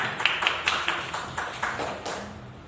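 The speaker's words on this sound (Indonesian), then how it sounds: "tepuk tangan buat SD Guru kami" Scattered clapping from a small school group honoring their teachers, a handful of distinct claps spaced unevenly over a few seconds, fairly close and moderately quiet, without talk.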